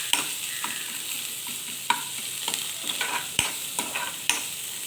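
Sliced onions sauté in a pan under a soft, constant sizzle, while a spoon stirs and scrapes against the metal in irregular clinks and taps.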